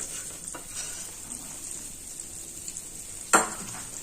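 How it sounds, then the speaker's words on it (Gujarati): Soft sizzling of flour roasting in ghee in a pan, with a steady hiss, a few scraping stirs and one sharp metallic clink near the end. "હવે આપણે લોટને એકદમ લાલાશ પડતો થાય ત્યાં સુધી શેકવાનો છે"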